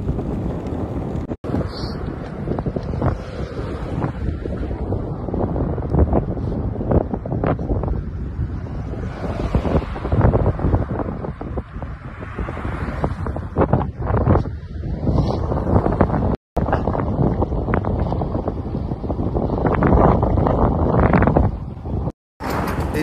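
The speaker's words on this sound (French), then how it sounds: "Le vent de face." Strong headwind roars across the microphone throughout a long bicycle ride from Paris to Le Havre, a loud, continuous buffeting rumble with gusty surges and brief dropouts.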